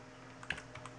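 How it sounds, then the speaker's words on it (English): A few soft keyboard keystrokes in a Photoshop session, scattered light taps with one clearer click midway and a sharper one at the very end, close and quiet with no voices. "I will start to type"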